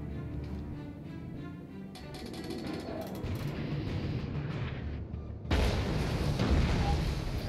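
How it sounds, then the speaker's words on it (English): A warship fires armor-piercing shells in World of Warships, with low rumbling booms of naval gunfire under continuous battle noise and a loud, sharp burst of fire near the end. "He's firing armor piercing."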